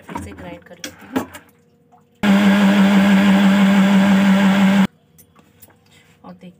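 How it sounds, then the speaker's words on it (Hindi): An electric mixer grinder churns cream to separate ghee, a loud steady whirring drone that starts abruptly, runs for about two and a half seconds, then cuts off, with quieter kitchen clatter before and after. "चलिए इसको मैं मिक्सी में फिर से ग्राइंड कर लेती हूँ।"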